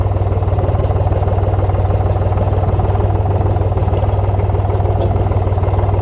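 A farm tractor's engine chugs steadily at close range, a loud, even, low throbbing pulse running without a break on a farm plot where fencing wire is being tied.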